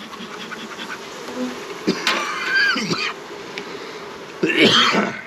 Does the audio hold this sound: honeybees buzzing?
yes